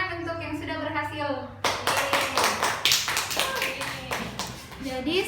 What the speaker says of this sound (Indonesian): Beri tepuk tangan untuk yang sudah berhasil